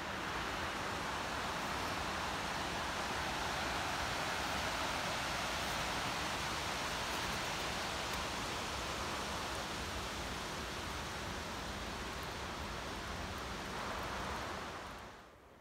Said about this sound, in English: Noisy as anything because of the waterfall.